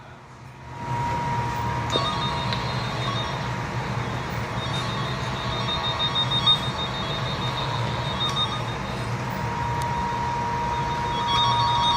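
A cable tone tracer probe emits a continuous electronic tone, steady and fairly loud, that starts after a brief quiet opening and holds for the rest of the clip, with a faint higher whine and occasional small clicks.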